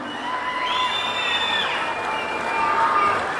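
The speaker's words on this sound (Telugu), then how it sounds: "గట్టిగా చప్పట్లు కొట్టి అభినందించండి" Cheering and clapping from an audience at a public event in Andhra Pradesh, a loud, steady crowd roar with whoops and shouts that swell and hold for several seconds.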